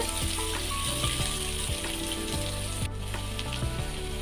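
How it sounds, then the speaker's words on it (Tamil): Chopped onions hit hot oil in a pan for prawn masala, a loud, dense sizzle that carries on steadily with a few stirring knocks and a low background hum. "இப்போது கட் பண்ணி வச்சுருக்கிற வெங்காயம் சேர்த்துக்கலாம்"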